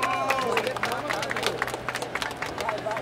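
A crowd at a street rap battle claps and shouts for a rapper in a busy outdoor space, a rough mix of applause and voices with voices on top, moderately loud and steady throughout.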